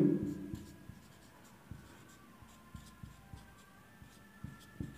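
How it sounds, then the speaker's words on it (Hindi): A teacher writes a word by hand on a board, producing soft, irregular scratches and taps that are close but faint over a low hum. "इसको लिखते हैं दोस्तों यू"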